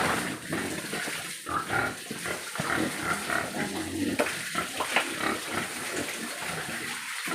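Pigs grunting and shuffling in a pen on a hog farm, a dense mix of low snorts and grunts from several animals at close range, with watery splashing and stirring sounds mixed in throughout and no talk.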